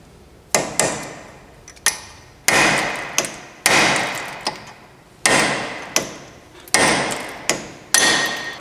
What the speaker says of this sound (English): What I'm going to do is peen this over, this axle nut,